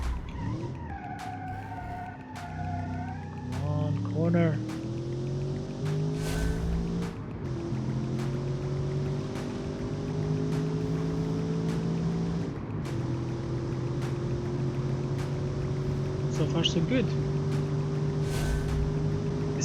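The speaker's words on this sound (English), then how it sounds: "It's a dirty V8 noise," Turbocharged V8 engine in a 1990 super sedan under way, a loud rough drone rising and falling in pitch as it accelerates and shifts, with someone speaking briefly over it.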